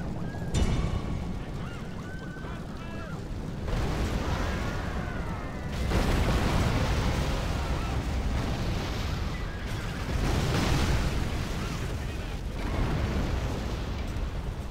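Heavy booming artillery blasts and rumbling impacts against a wall repeat every few seconds over a constant roar of battle noise in Rome: Total War – Barbarian Invasion.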